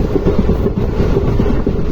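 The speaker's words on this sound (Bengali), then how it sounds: "এই ট্রেন জার্নিটার পথে 2 পাশে অসংখ্য নারকেল গাছ" Passenger train running on a journey through Kerala, a steady low rumble of wheels on track with faint rhythmic clatter, close and continuous with no talk.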